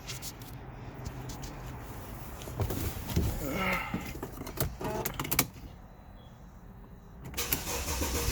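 A 2006 Mercedes-Benz E350 engine cranks and starts after an oil and filter change, with rattling, clicks and clunks, a surge midway, then a quieter settling run and rising noise near the end; faint speech is present.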